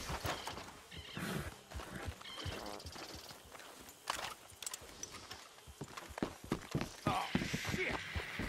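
Horses in the Red Dead Redemption 2 video game neigh and whinny while hooves clip-clop at a walk nearby, with other scattered game sounds around them.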